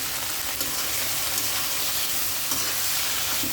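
Sweet potato greens and dried fish sautéing with salt in a pan, a dense, loud, continuous sizzle broken by occasional stirring scrapes, with no voices.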